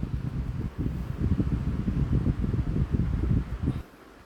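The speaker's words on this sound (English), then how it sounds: "The fan is very quiet and the airflow it blows is quite decent." A Comfort Zone 16-inch stand fan, model CZST161BTE, runs with a steady low whooshing airflow and soft buffeting, close and moderately loud for about four seconds before dropping off near the end.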